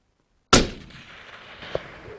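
A single loud rifle shot cracks out on an African hunting safari, fired at an animal roughly 250 yards off, then rolls away in a long decaying echo with a faint thud-like sound near the end; no one speaks.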